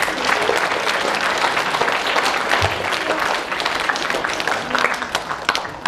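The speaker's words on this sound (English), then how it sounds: "So a big clap for our captains as well." A school assembly crowd claps for team captains, sustained dense applause throughout at close range, with no talking over it.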